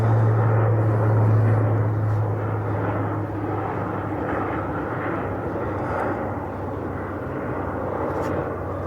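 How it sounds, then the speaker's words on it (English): A WestJet airliner flies in to land near an airport, its engines a steady, continuous drone with a low tonal hum that eases slightly in loudness. "we're sort of near the airport here, so you can see the WestJet coming in"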